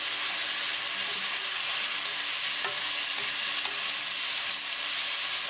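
Tomatoes being stirred into a green chili tadka in a hot pan, cooking for chana dal with chole: a steady, close sizzle with soft scraping of the spoon throughout, and no voices.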